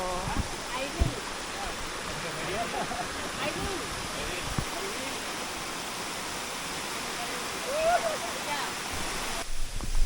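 Steady roaring rush of a waterfall on Gunung Muntahak in Kota Tinggi, Johor, Malaysia, fills the scene, constant and close, with brief faint voices and knocks over it.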